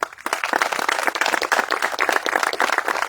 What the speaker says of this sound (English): So we'll give them a round of applause, please.